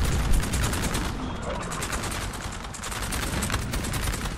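Musket volleys and cannon fire from a Napoleonic battle in the Napoleon Total War strategy game crackle in dense, rapid bursts over a low rumble, with continuous layered gunfire that stays loud from start to finish.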